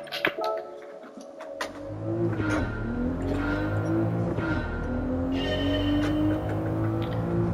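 A modified Toyota/Subaru sports car on comfort soft tyres in Gran Turismo 7 revs up and accelerates through the gears, engine droning loud and close with rising pitch sweeps and brief tyre noise.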